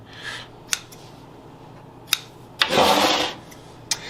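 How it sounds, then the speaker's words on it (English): A few sharp snips from scissors cutting whole grain sourdough bread dough, spaced apart, with one longer soft rasping pull in the middle; quiet and close. "I open up the scissors about a ½ inch, push down on the dough, and cut and pull out."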